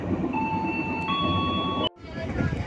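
KA Serayu night train in Indonesia, a steady rolling rumble inside the carriage with high tonal squeals, cut off abruptly near the end before the rumble resumes.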